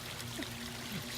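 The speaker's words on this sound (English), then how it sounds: "The water filters down through here into the big pond, the waterfall" Water trickles and pours down a garden waterfall into a large pond among native plants, a steady, soft, continuous splashing rush with no break.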